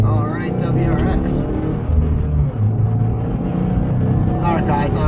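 A Subaru WRX drives along the road, its engine giving a steady, close low rumble from inside the cabin while someone talks over it.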